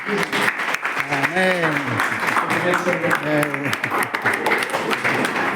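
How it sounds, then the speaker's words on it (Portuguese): Evangelical church congregation in Kobe, Japan, giving a round of applause, a dense, continuous clapping with voices calling and singing out over it throughout. "Vamos dar uma salva de palmas."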